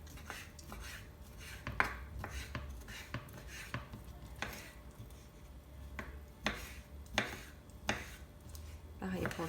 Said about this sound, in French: Je coupe en petits bouts.